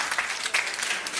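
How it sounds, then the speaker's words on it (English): Brief burst of dense applause from a pub quiz crowd for contestants, steady and fairly close, lasting about a second. "give them a round of applause for trying, though"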